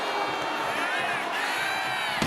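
Crowd cheering in a WWE 2K25 wrestling video game, a loud, steady roar with whoops, under a commentator's voice.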